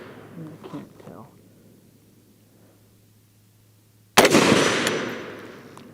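After a brief murmur of talk and a quiet pause, a single loud, sharp gunshot cracks at a steel dinner-plate target, followed by a long ringing decay.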